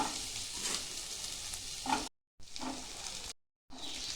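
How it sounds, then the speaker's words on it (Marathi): Chickpeas being sautéed in spice masala, giving a faint, soft sizzle with stirring scrapes, cut by two brief silent gaps. "चणे आता आपल्याला ना मसाल्यामध्ये टाकून परतून घ्यायचे"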